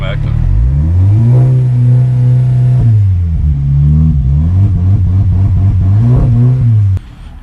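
A VW Jetta GLI with a 2.0T engine revs hard under launch control, loud and close, holding a steady high drone with harmonic sweeps that dip and climb repeatedly before cutting off abruptly near the end.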